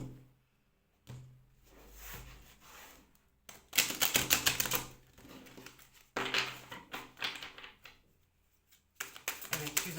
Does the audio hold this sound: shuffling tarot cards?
yes